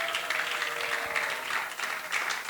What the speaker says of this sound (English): all of them deserve a round of applause